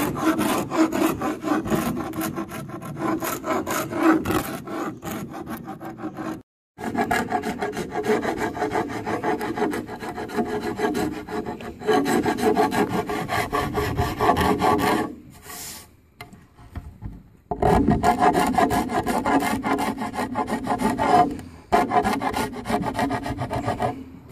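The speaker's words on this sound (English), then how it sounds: "let's start filing off the epoxy" A hand file rasps epoxy off a PRO-LOKS Squaretop Pro-Sleeve on a rope, in steady close scraping strokes that run continuously with a few brief pauses.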